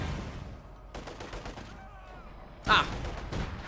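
A tank's hull-mounted machine gun fires in Company of Heroes 2, short bursts of rapid rattling shots amid battle noise, with one sharper loud report near the end and a brief exclamation from a man.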